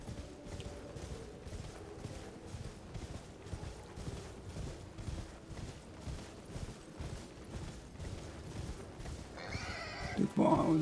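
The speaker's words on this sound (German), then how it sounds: "jetzt können wir doch da direkt mal unser Pferdchen rausholen. Und dahin reiten." A horse ridden in the video game Elden Ring, with steady, rhythmic hoofbeats at a moderate level and a brief, sharper burst near the end.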